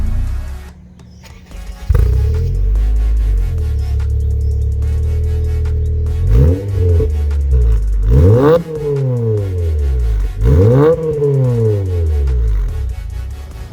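An executive car's engine pulling on a drive: steady low engine drone that swells through several rising revs with gear changes, fairly loud and close, with no talking.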